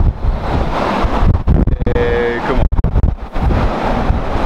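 Strong gusty wind on the Grand Ballon summit in the Vosges buffets the microphone with a loud, roaring rumble, while a brief spoken voice is heard.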